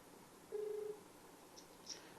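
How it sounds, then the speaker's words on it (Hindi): A telephone call being placed: a single steady tone of about half a second, then two short faint beeps, over a quiet background with no talk. "हम ज्योति मौर्य को फोन लगाने जा रहे हैं।"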